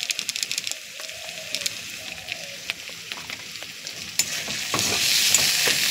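Turmeric and chili powder fry in a pan with a steady low sizzle and occasional stirring scrapes, the hiss swelling louder toward the end.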